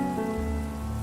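Steady rain falling on a surface, a constant dense patter under a low sustained drone, smooth and unbroken at a calm volume.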